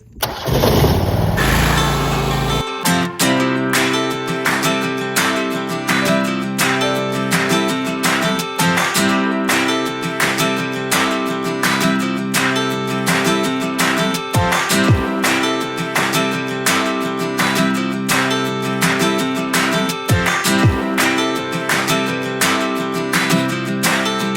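A small engine sputters and catches after a brief start-up, then runs loud and steady with a rhythmic, slightly uneven chug like a lawn mower.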